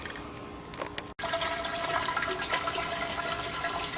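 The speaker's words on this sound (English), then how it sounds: "and then I'm going to fill this with water" Water rushes from a garden hose into a keg after a brief cutoff, a steady loud hiss and splash filling the vessel with no voices.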